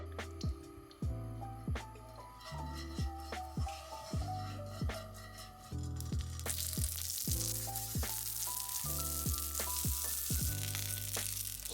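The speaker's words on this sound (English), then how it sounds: "Fry for 2 to 3 minutes on each side until the filling is fully cooked." Dumplings frying in a thin layer of oil in a non-stick pan, a steady close sizzle that grows louder and denser partway through, heard alone under a faint musical backing.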